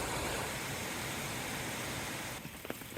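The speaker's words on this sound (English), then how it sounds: "Okay, so tarps running water down to here." Flood water running steadily off a tarp during a county flood in Santa Cruz, a continuous rushing wash that fills the clip, thinning slightly near the end where a few faint knocks come through.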